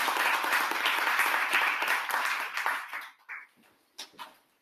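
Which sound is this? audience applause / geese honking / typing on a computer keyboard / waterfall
audience applause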